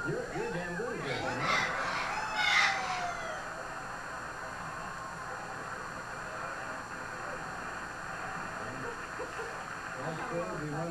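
A voice imitates a rooster's crow, rising and wavering loudly near the start, then fading into quieter background sounds.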